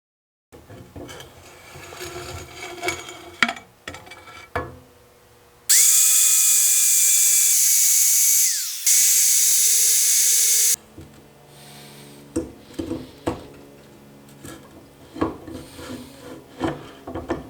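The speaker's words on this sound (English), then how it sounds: "So you can see where I grinded each little spot that we had marked." An angle grinder shrieks loudly against the steel of a Jeep CJ5 Dana 30 axle in a single sustained burst, framed before and after by scattered clanks, scrapes and handling noises.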